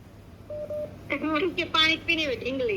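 A phone rings with a few short, steady electronic tones, then people start talking close by over the fading ring.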